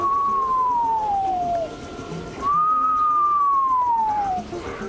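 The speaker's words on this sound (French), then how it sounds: "Elle a un chant tout à fait unique, une sorte de sifflement" A black frog calling from a stream, two long, clear whistles that glide slowly downward, each lasting about two seconds with a short pause between, loud and close over faint background noise.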